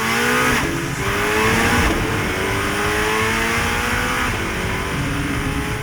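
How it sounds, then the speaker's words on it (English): A turbocharged 2025 Corvette ZR1 revs hard, its exhaust rising in rapid, rising pitch sweeps that sound close, loud and continuous with no voices over it. "then listen to the soundtrack of the ZR1."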